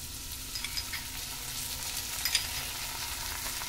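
Vegetables with salt and red chili sauce are tossed in a pan for masala Maggi, a continuous quiet sizzle with a few light spatula taps and scrapes.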